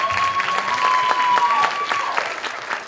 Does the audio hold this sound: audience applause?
yes